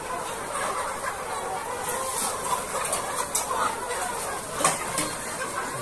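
Dense clucking and crowing of many chickens fills a crowded poultry farm at feeding time, a steady flock din with a few louder calls rising above it.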